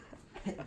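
A dog gives a short whimper followed by soft panting, close by but faint and lasting only a moment.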